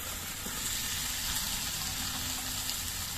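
Fried jackfruit pieces sizzle as they go into spice masala in hot oil for a jackfruit and paneer curry, a steady close hiss of frying with faint stirring throughout and no talking.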